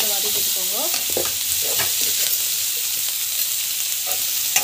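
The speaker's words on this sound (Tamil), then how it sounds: "கல்லுப்பு ஆட் பண்ணிவிட்டு ஜஸ்ட் வந்து வதக்கிட்டுக்கோங்க" Asafoetida and rock salt being sautéed in a pan, with a steady broadband sizzle and a spoon scraping and stirring in short strokes throughout, close and moderately loud, no voices.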